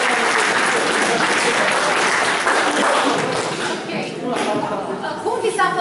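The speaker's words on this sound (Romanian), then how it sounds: "Bun, mulțumim, te aplaudăm." A school audience at a forum theatre session in a Buftea high school breaks into applause, a sustained wash of many hands clapping that thins and tapers toward the end as voices begin to surface.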